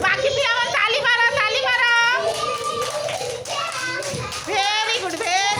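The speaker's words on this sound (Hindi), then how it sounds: "बाकी पिला मन ताली मारो" Children clapping at an Anganwadi centre, a quick rattling burst of small hands mixed in with children's chatter and an adult voice, close and lively.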